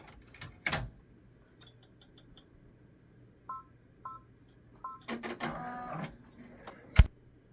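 An embroidery machine starts a color change to stitch satin applique around a snowman design. It gives short electronic beeps and soft clicks, then a clattering run of rapid mechanical stitching, followed by a sharp thump. The room is otherwise quiet.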